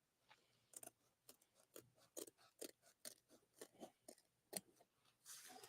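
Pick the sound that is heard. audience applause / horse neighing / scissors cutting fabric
scissors cutting fabric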